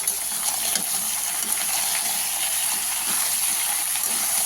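A liquid is poured into a pot of lentil dal cooked with bottle gourd, making a steady, fairly loud rushing hiss that lasts throughout with no talking.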